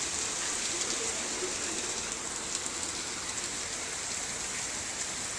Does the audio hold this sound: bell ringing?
no